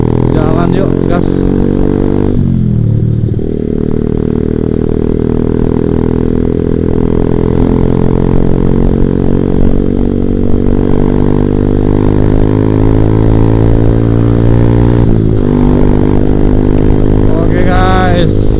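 Motorcycle engine on a solo ride, loud and close, with a steady droning hum that drops briefly near the start and end as the rider shifts, then pulls on while accelerating.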